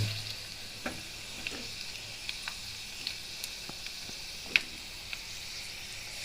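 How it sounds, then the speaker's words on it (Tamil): Hot oil hisses softly as vadagam fries for tempering, with scattered sharp pops and crackles over a steady sizzle. "வடவும் நல்லா பொரியுது"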